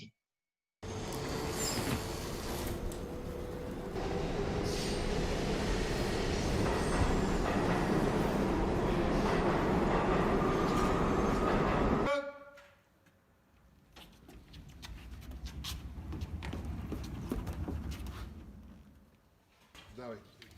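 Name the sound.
train pulling away from platform in film clip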